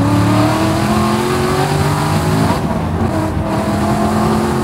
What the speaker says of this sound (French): Oh, le bruit du V8